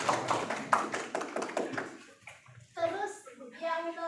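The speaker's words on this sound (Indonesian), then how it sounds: "tepuk tangan dulu dong teman-teman" A group of classmates clapping in a classroom, a brief burst of close hand claps that fades out, followed by children talking.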